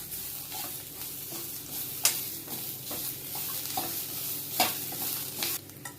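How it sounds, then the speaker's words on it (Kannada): Grated coconut fries in a pan for a mutton gravy: a soft, continuous sizzle broken by sharp spoon-on-pan clinks and scraping strokes at irregular intervals, close and clear. "ತೆಂಗಿನಕಾಯಿ ತುರಿ ಫ್ರೈ ಮಾಡಿ ಚೆನ್ನಾಗಿ"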